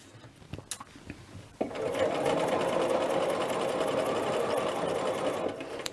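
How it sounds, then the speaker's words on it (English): A sewing machine runs steadily and continuously as it stitches a dress facing around a neckline. A few light clicks come first, then a sustained mechanical whir close by. "So we're coming around the corner and going around the neckline."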